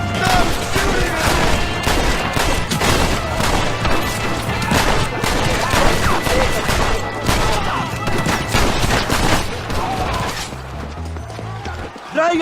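Rapid bursts of gunfire rattle through a frantic shootout in the video game Red Dead Redemption, mixed with hoofbeats, crashes and shouting voices, fading toward the end.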